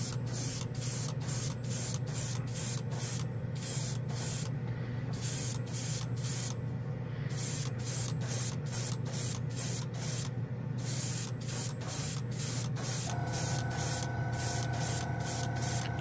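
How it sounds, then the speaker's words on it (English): Airbrush spraying standard chrome paint fed by an air compressor, a steady close hiss broken into many short bursts as the trigger starts and stops, with a low compressor hum running underneath and no talk. "We'll spray it over something else"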